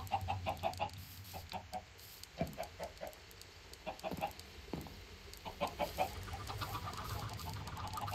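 Minecraft chickens clucking in short repeated bursts, several birds overlapping at moderate distance, with a steady low hum of game ambience underneath and no talk.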